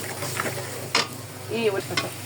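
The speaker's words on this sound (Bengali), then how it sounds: "হলুদ মরিচের গুঁড়ো একসাথে এখন কষাবো।" Turmeric, chili, cumin and ginger-garlic spice paste frying in a pan for a boal fish curry, with a steady sizzle, a few scraping stirs and a brief clink of utensils, close and fairly quiet.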